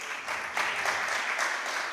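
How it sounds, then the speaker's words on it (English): An audience at a food gift challenge presentation applauds producer Mimmo Nakari, a steady, even wash of clapping from a moderate-sized crowd that holds at a constant level for about two seconds. "A round of applause for Mimmo"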